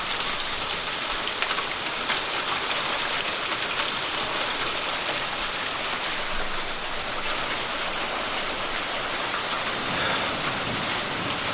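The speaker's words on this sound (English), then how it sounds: "it might not snow here, but it sure does rain a lot." Steady, dense rain falls continuously, a close, even hiss of drops on surfaces with no talking over it.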